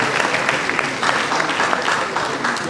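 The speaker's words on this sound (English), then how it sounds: "A round of applause." An audience applauds in a steady, full burst of clapping that fills the short moment without pause.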